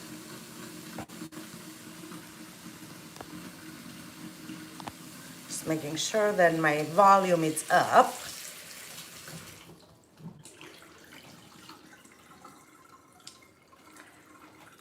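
Tap water runs into a pot for boiling a potato, a steady wash of flowing and filling under a person talking throughout.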